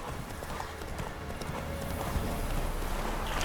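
Roach the horse in The Witcher 3 trotting, a steady, dense clip-clop of hooves under a continuous game ambience, fairly close and with no talking.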